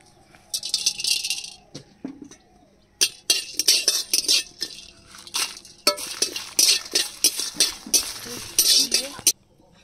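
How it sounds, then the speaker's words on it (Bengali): Dry chillies, bay leaves, whole garam masala and cumin dry-roasting in a pan for a village-style duck curry, with irregular bursts of rattling and metallic clinks as the spices are stirred and tossed, separated by short pauses. "মাংস রান্নার জন্য শুকনো লঙ্কা, তেজপাতা, গোটা গরম মশলা, জিরা একসাথে ভেজে নেব।"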